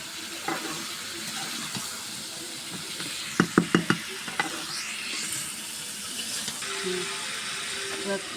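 Sweet pumpkin fries with spices in a pan under a steady sizzle, broken by a quick burst of sharp spatula clacks and scrapes as it is stirred.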